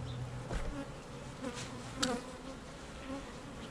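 Docile worker honey bees buzz at an open hive during nectar flow in a dense, continuous hum. Individual bees drone past close by, and nobody speaks.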